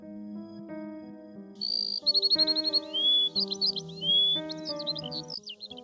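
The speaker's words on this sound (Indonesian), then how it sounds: "Suara kicauan burung pagi itu membangunkan diriku." Bright bird chirps and rapid trills ring out over soft, sustained music, clear and near.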